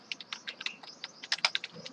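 Someone types quickly on a computer keyboard, with a rapid, uneven run of close, crisp key clicks that sound alone and quietly, without talk.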